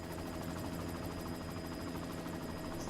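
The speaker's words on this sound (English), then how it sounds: "You've got to stop that chopper." Helicopter in the video game Deus Ex: Mankind Divided, a steady low rotor thrum and engine drone holding at constant level throughout, with no voices.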